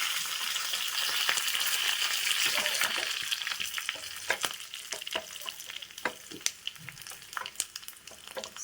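Curry leaves dropped into hot oil for a tempering over mustard seeds, bursting into a loud crackling sizzle that gradually settles into sharper sporadic pops and spits, close up, no talking.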